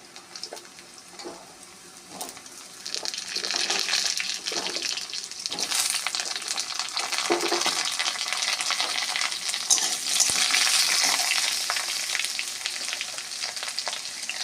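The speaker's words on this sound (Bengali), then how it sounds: "আলুগুলো লম্বা লম্বা করে কেটে নিয়েছিলাম এরকম করে আলুটা ভেজে নেবো আগে" Long-cut potato strips fry in hot oil tempered with white cumin and dried red chili, a steady close broadband sizzle with occasional stirring scrapes, growing slightly louder after the first few seconds.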